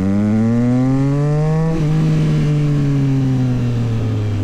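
A 2024 Yamaha MT-09 SP motorcycle accelerating in second gear at about 30 km/h, its engine note climbing loud and close, then a shift-like break followed by a steady, slowly falling drone.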